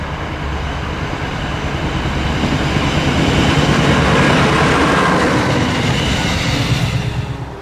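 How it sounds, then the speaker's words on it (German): A steam special train runs past a church in a snowy Sauerland village, a loud steady rumble of wheels and wagons that swells as it nears and fades slightly, no voices. "Unter Begleitung zahlreicher Eisenbahnfreunde passiert der Dampfsonderzug die St. Nikolaskirche in Wulmeringhausen."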